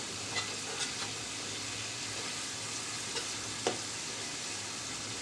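Katla fish pieces sautéing in a pan over medium-low heat for a dopeyaza curry, a soft steady sizzle with a few faint pops and spatula clicks.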